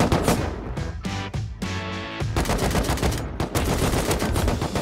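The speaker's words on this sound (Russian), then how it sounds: "Куда он стреляет?" Gunfire in an online multiplayer survival shooter, bursts of rapid automatic shots and single cracks in dense clusters, loud and close throughout with a brief lull in the middle.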